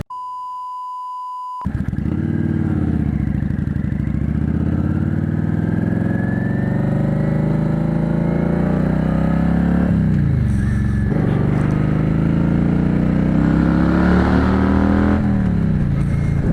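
A motorcycle pulls away from a red light and turns, its engine revving up steadily and changing pitch through the gears, loud and close throughout after a brief beep at the start.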